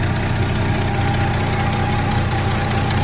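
A 1972 Chevrolet truck engine idles loudly and close by, a steady, even rumble with a faint rhythmic knock running through it and no one talking.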